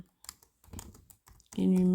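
Clicky keystrokes come in short bursts on a computer keyboard while Python code is written, followed by a voice starting to talk.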